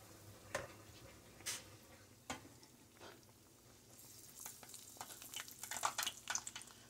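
Pumpkin fritters, made without eggs, frying in a pan on a stove set between 3 and 4, a soft continuous sizzle with scattered pops and crackles that grow busier toward the end.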